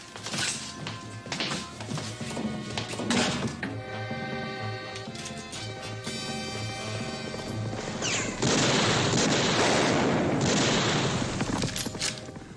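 Bursts of gunfire crackle amid loud crashes and booms in a 1967 western TV episode, with a dense sustained roar of shots toward the end; no talking.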